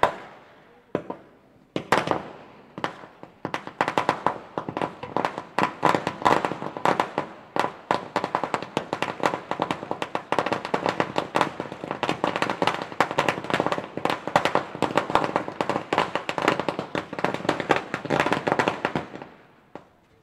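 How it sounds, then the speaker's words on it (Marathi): Firecrackers burst in a long, dense barrage of sharp cracks and pops at an outdoor welcome ceremony for a guest at a village cricket match, loud and continuous for most of the stretch after a few opening bangs. "फटाक्यांच्या जल्लोषात फटाक्यांच्या आतिषबाजीमध्ये या ठिकाणी जर का आपण पाहिलं तर साहेबांचं शुभागमन झालं"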